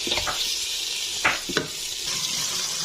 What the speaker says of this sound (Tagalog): antayin muna natin mag-simmer ng konti yung chicken